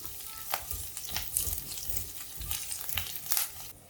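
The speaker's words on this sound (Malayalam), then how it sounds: "അല്പം കറിവേപ്പില ഒന്നുള്ളി ഇട്ട് കൊടുക്കാം. എല്ലാം കൂടെ നന്നായിട്ടൊന്ന് മൂക്കട്ടെ." Curry leaves and shallots frying in a pan for dahi kadhi, a close, steady crackling sizzle with bursts of spitting and pops spread through the frying.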